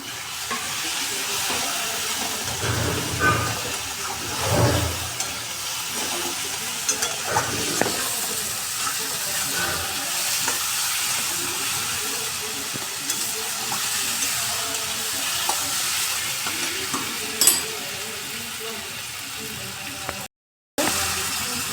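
Ginger paste frying and being stirred in a pan, a steady broadband sizzle with scraping stir strokes and a few louder bursts near the start, close and continuous with no talking.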